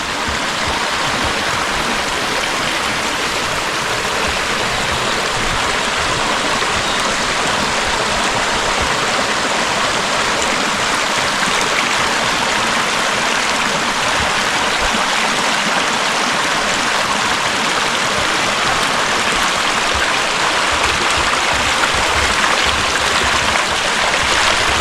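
A small creek flows in a forest near Colville, making a steady, dense rushing and babbling that stays close and constant throughout with no voices.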